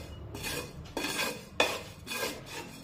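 Sesame seeds dry-roasting in a pan get stirred with a spoon, several rhythmic gritty scraping sweeps with light clinks against the metal, close and quiet, no voices.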